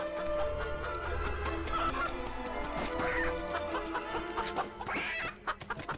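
Chicken clucking in the video game Fable 3, loud and close, with a busy run of clucks and squawks over a tonal game background.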